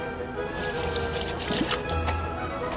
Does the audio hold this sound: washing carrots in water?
yes